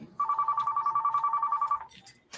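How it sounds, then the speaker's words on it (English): A phone rings once with a rapid trilling electronic tone, close and fairly loud, lasting under two seconds before cutting off into faint background noise. "Hey, I got a phone call."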